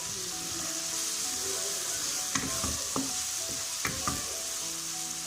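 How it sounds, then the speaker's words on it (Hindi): Whole spices and cumin roasting in a hot pan for an achari baingan dish: a steady close sizzle and hiss, broken by a few sharp clinks and scrapes of a stirring spoon, with no talking. "सब मसाले जीरा हमने साबुत डाला है। अब ये मसाले हम अच्छी तरह भून लेंगे।"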